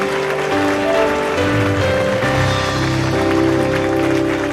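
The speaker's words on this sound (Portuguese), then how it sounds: "Aplaude o Senhor por essas vidas." A church congregation applauds during an evangelical service, a continuous rain-like wash of many hands clapping together under sustained music.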